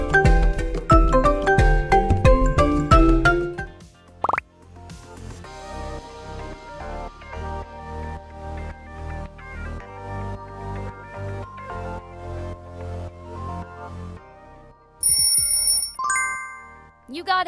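An Asus smartphone ringtone plays as a clear melodic sequence of bright electronic tones, loud and close, followed by a sparser tinkling passage, a short pause and a few high chiming notes at the end.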